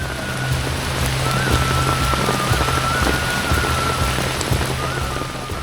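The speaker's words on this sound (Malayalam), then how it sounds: "പെട്ടെന്നാണ് ഒരു മഴ തുടങ്ങിയത്" Sudden rain pours down steadily in the forest of Kaziranga National Park during a safari, a dense, even hiss of drops on surfaces that stays loud throughout with no voices.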